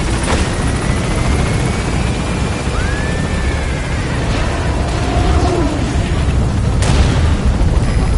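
A helicopter gains altitude in Metal Gear Solid V, its loud, continuous rotor roar filling the scene, with faint whining tones over the top.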